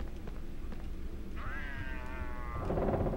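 A cat in a Harry Potter video game lets out one drawn-out meow, clear and fairly close, over a low rumbling game background.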